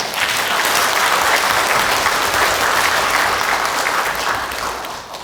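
A lecture audience at a forum with a presidential hopeful breaks into loud, thick applause that holds steady and then eases off slightly at the end.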